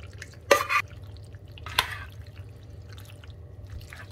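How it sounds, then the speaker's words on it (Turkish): A spoon stirs a pasta al forno mixture with added cheese and grated kashar, giving two quick wet scraping bursts, the first longer, then a fainter one, close and quiet over low background hum. "iyice karıştırıyoruz"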